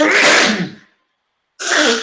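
A single sharp sneeze bursts out loud and close, then trails off into about a second of silence before another loud, breathy burst follows, with a short spoken word also in the clip.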